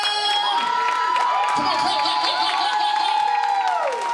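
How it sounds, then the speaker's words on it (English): An audience at a New Year's Eve party claps and cheers for a performer being introduced, a sustained wash of crowd noise with whoops and shouts throughout while a voice calls out over it. "can we clap for this next person that's coming?"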